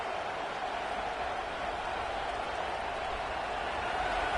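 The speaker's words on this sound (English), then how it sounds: "listen to this crowd noise. This stadium is vibrating." A football stadium crowd roars as a continuous, steady wash of noise, broad and distant-sounding, with no distinct voices standing out.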